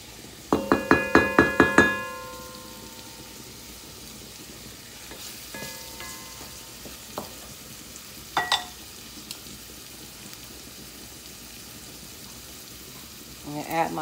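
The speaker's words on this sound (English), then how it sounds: "we're gonna let this cook for about a minute in here before we start to make our sauce" Salt fish cooking in a pan for a Haitian-style sauce. A quick burst of sharp metallic clatters opens it, then a quiet sizzle carries on with occasional knocks and a final flurry of clinks.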